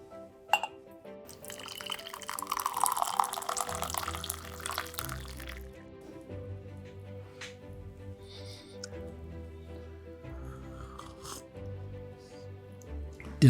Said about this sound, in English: So the tea has now brewed, and I'm just about to pour.